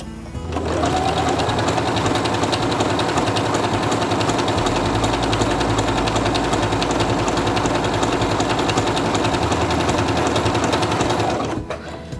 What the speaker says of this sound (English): And I'm going to sew again to see what it looks like.